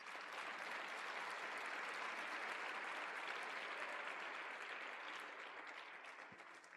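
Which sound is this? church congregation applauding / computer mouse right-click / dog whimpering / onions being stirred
church congregation applauding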